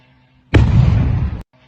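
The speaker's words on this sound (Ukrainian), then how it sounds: "Послухайте, як бабахає." Explosion from a strike on a 110 kV electrical substation in Novoaidar, Luhansk region: one loud, near blast with a sharp onset and a sustained roar lasting about a second before cutting off, alone with no voices.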